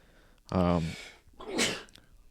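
One loud, close sneeze: a voiced, wheezy intake, a brief pause, then a sharp hissing burst.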